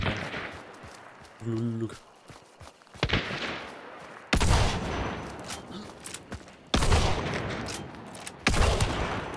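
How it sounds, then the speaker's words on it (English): Sniper gunshots in the video game Hunt: Showdown, three sharp, loud reports spaced a couple of seconds apart, each ringing into a long rumbling echo, with a brief spoken word early on. "I can snipe him from there"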